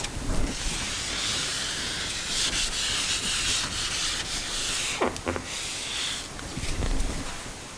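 A board eraser rubs writing off a whiteboard, giving a steady, close, broadband hiss that runs almost unbroken, with a few brief scuffs and knocks near the end.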